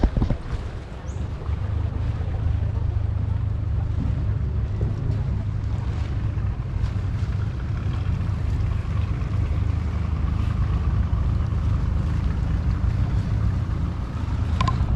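Boat on the river in Ayutthaya during a merit-making ceremony, a low steady engine drone with wind rumbling across the microphone, constant and fairly close.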